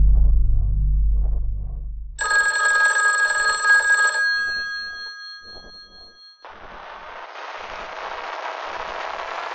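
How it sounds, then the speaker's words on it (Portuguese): A telephone rings in a tense horror game scene, a bright electronic ring with steady tones that starts after a low rumble, sounds for about two seconds, then fades into a hissing noisy wash. "de repente o telefone toca"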